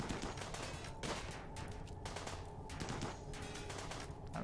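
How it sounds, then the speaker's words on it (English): Rimworld Alpha 15 tribal colonists open fire on a ship, a dense, continuous rattle of rapid game gunfire that stays steady and fairly quiet throughout. "Now, everybody fire on the ship."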